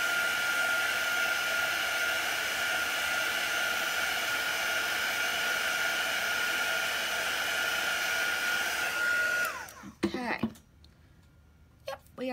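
Hair dryer blowing steadily to dry paint on a Halloween wreath, a loud continuous whoosh close by for about nine seconds before it clicks off, leaving near quiet.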